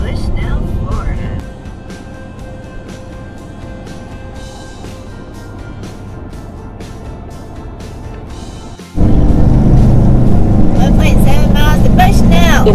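Road rumble and engine drone fill the cab of an RV driving down a Florida highway toward an RV resort in Bushnell. A voice talks over the steady noise, which swells louder near the end.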